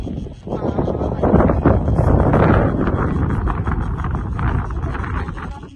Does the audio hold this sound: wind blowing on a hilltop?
yes